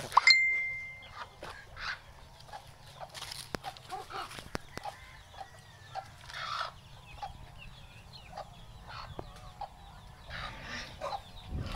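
Chickens cluck and crow on a small backyard farm where pigs are also kept, with scattered calls near and far over steady low rural background noise and a few sharp knocks.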